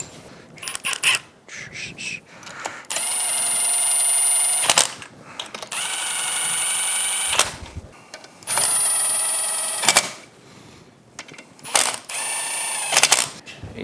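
Mechanical clicking and ratcheting from a torque wrench tightening bolts on a Yamaha F225 outboard powerhead during a rebuild, heard in several sustained bursts with brief sharp clicks between them, close and fairly loud, with no talking.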